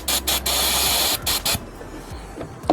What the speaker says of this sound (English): Spray some over here as well.